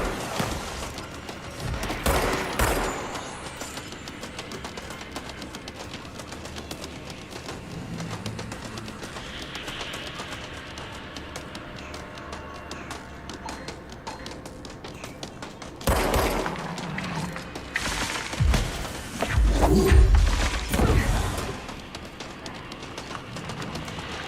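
Gunfire in the video game Control, a few bursts of loud shots near the start and again later, separated by quieter stretches of game ambience and mechanical noise.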